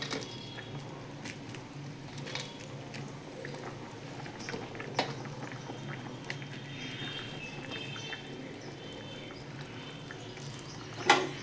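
Soft, steady bubbling of curry with green banana fritters simmering over a high gas flame, faint and continuous, with a brief clink near the end.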